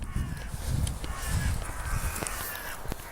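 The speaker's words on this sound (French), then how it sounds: "j'ai le corbeau qui se tient là-haut" A crow caws from up high, a few hoarse calls spaced apart over a steady outdoor background hiss, moderately distant and without talk.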